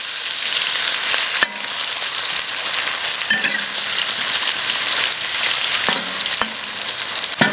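Pork belly stir-fries in hot oil for red-braised pork with a loud, continuous sizzle, broken by a few sharp clinks and scrapes of the spatula against the wok.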